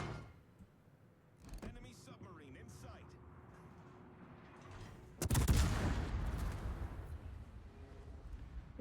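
Ship guns fire in World of Warships, the main battery booming in a sharp, loud salvo partway through, followed by a rumbling tail, with softer gunfire and game ambience before it.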